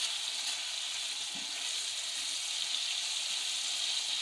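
Ingredients for chicken Shinwari karahi frying in a pan, a steady bright sizzle that holds evenly throughout with no talking over it.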